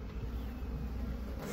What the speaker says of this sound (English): These bees are something else.